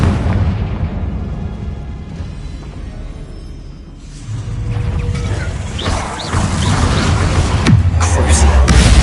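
Confringo fire spell blasts in the Hogwarts Legacy video game, a loud booming burst over dense game battle noise and rumbling low effects, with shouted spell calls mixed in.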